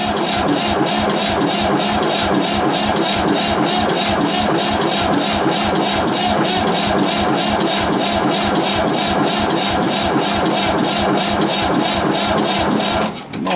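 A car starter cranking on a cold start, a loud, close rhythmic chugging of the engine turning over at an even pace for several seconds without catching, then cutting off.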